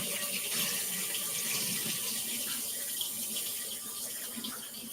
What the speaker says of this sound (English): I'm going to pour out most of the water